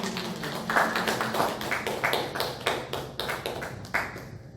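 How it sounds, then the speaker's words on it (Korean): A church congregation claps to welcome the pastor during a Sunday worship service, a run of separate, fairly close claps in an uneven rhythm, moderately loud in a reverberant room. "목사님 나오실 때에 우리 힘차게 박수로 우리 할렐루야로 힘차게 박수로 맞이해 주시길 바랍니다."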